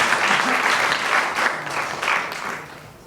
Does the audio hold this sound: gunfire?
no